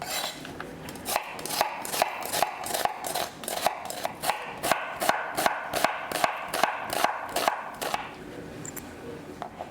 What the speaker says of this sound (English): We will start by dicing the onions.